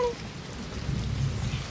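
Steady rain pours down in a dense, continuous hiss with low rumbling undertones, close and even throughout, with no voices.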